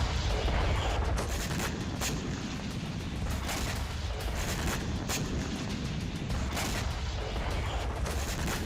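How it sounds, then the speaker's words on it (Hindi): Russian missile strikes on Odesa set off a string of explosions, with booms and cracks rolling one after another through dense, continuous rumbling, loud and uninterrupted with no voices. "एक के बाद एक कई धमाके हुए।"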